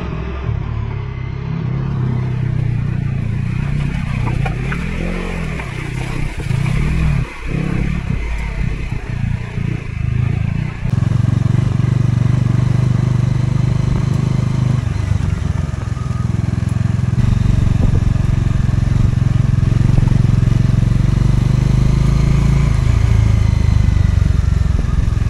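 A motorcycle rides up a mountain road toward Sach Pass in Chamba, its engine a loud, steady rumble with a shift in pitch partway through, while wind noise and brief voices mix in.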